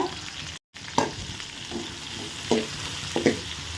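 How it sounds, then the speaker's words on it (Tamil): Onions sautéing in a pan for chicken curry give a continuous sizzle, with a few distinct scraping stirs of a spoon against the pan at close range and no voices. "இப்போ நல்லா வெங்காயம் வதங்குது"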